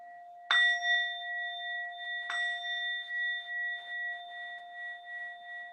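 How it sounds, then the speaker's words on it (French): Meditation bell struck twice at a morning meditation session, each strike a bright ringing tone that lingers with a slow shimmering decay, gently pulsing as it fades in a quiet room, with no voices. "Je vais sonner la cloche."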